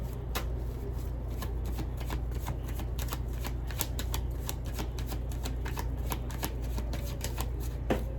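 Tarot cards are shuffled steadily and close by, with a quick flutter of crisp card riffles repeating over a constant low hum and no voices.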